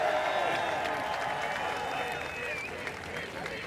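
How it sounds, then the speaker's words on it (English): Audience applause at a live streamer game show event, a broad continuous wash of clapping and crowd noise holding steady throughout, with some cheering mixed in. "I need another big round of applause."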